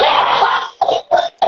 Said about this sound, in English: coughing on his good ganja